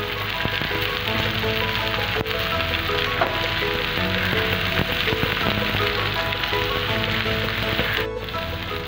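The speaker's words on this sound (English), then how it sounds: "Now add the mushrooms. Stir fry them for 2 to 3 minutes." Mushrooms stir-frying in butter and garlic give a steady, loud sizzle with scattered crackles and pops throughout, close by and uninterrupted by speech.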